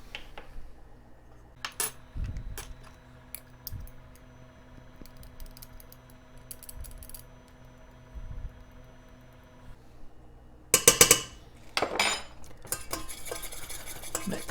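A utensil stirring cinnamon into a sugar-free dessert topping in a bowl, soft scraping and clinking of metal against the dish at an uneven pace, close and fairly quiet, with sharper clanks near the end.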